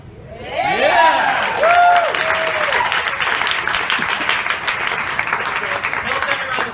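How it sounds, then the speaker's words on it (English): Audience applause fills the room at a November Project show-and-tell event, sustained and fairly loud for several seconds with a few whoops early on and a faint voice beneath. "One more big round of applause for Mike."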